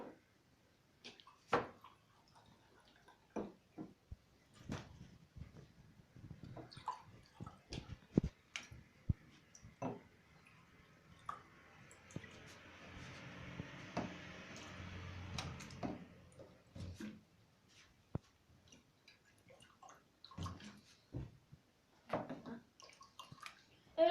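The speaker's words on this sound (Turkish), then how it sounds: "kola şişeyle bunları farklı miktarda dolduracağım arkadaşlar" Water poured from a cola bottle into a row of drinking glasses, a soft trickling pour in the middle surrounded by many sharp clicks and knocks of glass and bottle handling, fairly quiet and close.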